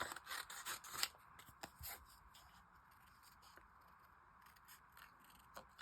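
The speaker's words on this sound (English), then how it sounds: "I'm actually just going to use my scissors" Scissors snip card-making paper close to the microphone, making a run of quick crisp cuts followed by quieter intermittent snips at low volume.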